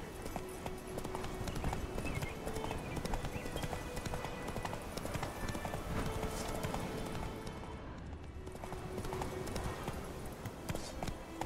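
Roach, Geralt's horse in The Witcher 3 video game, gallops in a steady drumming clip-clop that runs unbroken and loud against a dense game soundscape of wind and movement.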